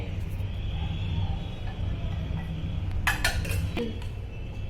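A spoon scraping and clinking against a clay pot while scooping out curd, with a few sharp metallic and ceramic clinks over a steady low background hum.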